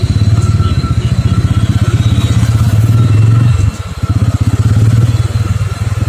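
Idling Bajaj Pulsar N160 motorcycle engine after its second service, a loud, close, steady rapid thump with a brief dip midway, heard alone.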